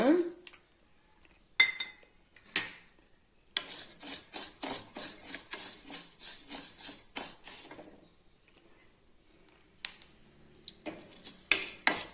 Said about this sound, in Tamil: அடுத்து நம்ம கருப்பு உளுந்து போட்டு வறுத்துக்கலாங்க